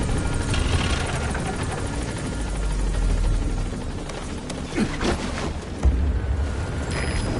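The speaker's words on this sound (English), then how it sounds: "Support helicopter has arrived." A support helicopter in a military stealth video game touches down at a landing zone, its heavy rotor thrum steady and loud throughout, with deep low rumble and a couple of brief thumps near the end.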